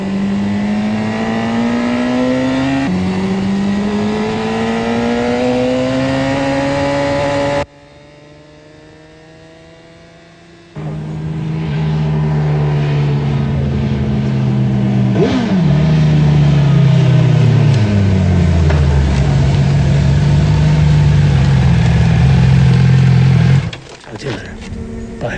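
A motorcycle ridden smoothly through a series of corners, its engine note rising and falling steadily with careful throttle control, loud and continuous, briefly cutting out before resuming with shifting revs through the bends.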